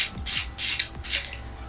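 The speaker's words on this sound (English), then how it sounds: "So I'm going to use the spray, and I'm literally just going to spray it onto like" Three short, hissing spritzes from a makeup setting spray bottle, evenly spaced and close by, each a quick burst of airy mist with quiet pauses between.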